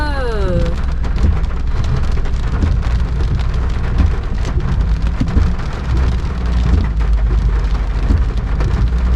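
Heavy rain pours steadily and loudly onto surfaces at a rural Thai home, with low rumbles of thunder rolling underneath throughout.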